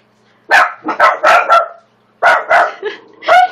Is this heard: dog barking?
yes